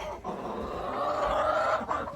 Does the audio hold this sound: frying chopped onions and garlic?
no